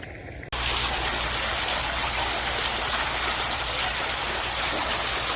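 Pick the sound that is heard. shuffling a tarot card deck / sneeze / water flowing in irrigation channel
water flowing in irrigation channel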